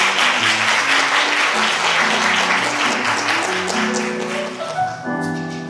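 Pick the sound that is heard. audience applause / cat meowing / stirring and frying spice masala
audience applause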